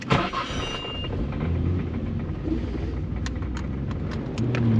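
A Honda CRX with a new power setup pulls hard under acceleration, its mid-pitched engine note droning steadily close by and swelling louder toward the end, with some road noise mixed in.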